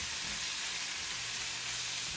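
Shrimp cooking in butter in a pan on a stove turned up high, giving a steady, close sizzle and hiss that runs on without a break.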